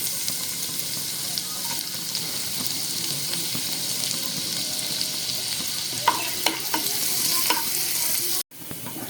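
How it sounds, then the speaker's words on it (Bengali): Chopped garlic frying in hot oil in a wok makes a steady, close sizzling hiss, with a few utensil scrapes and taps toward the end before a sudden brief cut, and no voices. "তেলটা গরম হওয়ার পরে রসুন কুচি দিয়ে দিচ্ছি।"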